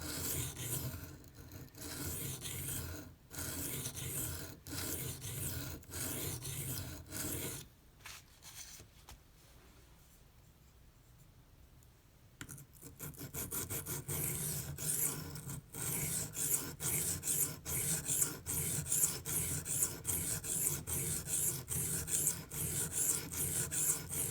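A Microtech UTX-70 knife blade stroked across Venev pocket diamond stones, with a rapid run of rhythmic rasping scrapes and a quiet pause in the middle before the strokes resume.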